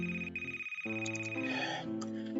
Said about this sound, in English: A few feet from me, a sound of ringing slowly fills the air.